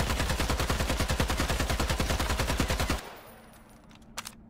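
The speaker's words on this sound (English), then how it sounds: "Moving on to the last one over here, we have the glorious AK-47." An AK-47 fires in the battle royale video game Islands of Nyne as a loud, rapid, evenly spaced automatic burst lasting about three seconds, then stops abruptly, leaving faint tail noise and a couple of small clicks.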